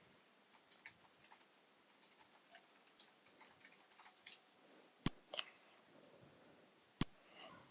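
Quiet, close computer keyboard typing in quick bursts of soft clicks, entering HTML code in Eclipse, followed by a couple of sharper isolated key taps with pauses between.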